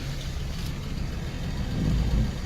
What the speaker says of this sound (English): The traffic is incredibly congested.